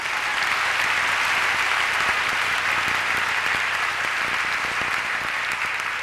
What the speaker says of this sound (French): On applaudit, hein?